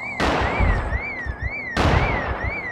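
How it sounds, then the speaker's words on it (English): Two sharp bursts of gunfire in the zombie survival game Project Zomboid, each loud and followed by a wavering alarm-like tone, with no one talking. "Who's shooting?"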